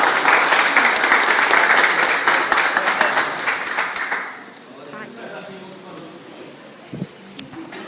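A church congregation applauds in a loud, dense burst of clapping that fades out after about four seconds, leaving quieter room noise with a voice and a few faint knocks.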